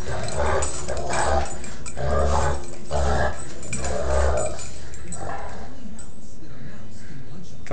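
A puppy growls and yips in short repeated bursts while play fighting, close and fairly loud, with people talking over and between the growls.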